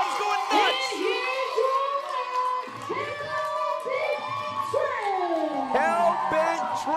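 A wrestling crowd at a Factory Showcase event cheers, whoops and shouts wildly after a deep step pin, a dense roar of many voices sustained throughout with individual high-pitched yells rising above it.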